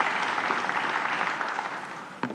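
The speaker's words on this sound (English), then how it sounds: "Measures, yes, you can applaud to that." Audience applause at an ANC gala dinner during a keynote address, a brief dense burst of clapping that fades a little before a sharp final clap.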